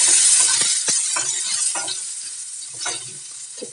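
Mustard seeds and garlic sizzle loudly in hot oil for poha, a bright dense hiss with several scraping stirs of a spoon against the pan, close up and alone.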